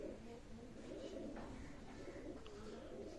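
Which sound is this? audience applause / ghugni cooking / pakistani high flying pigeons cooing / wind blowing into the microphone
pakistani high flying pigeons cooing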